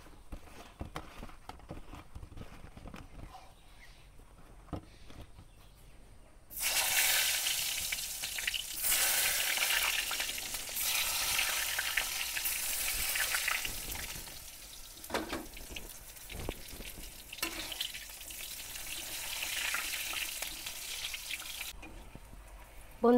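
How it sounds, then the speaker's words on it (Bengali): Salted, turmeric-coated eggplant slices frying in oil: quiet kitchen noise, then a sudden loud, sustained sizzle as the slices go in, continuing with a few soft knocks and shifts until it drops away near the end. "এবার আমি বেগুন ভাজবো।"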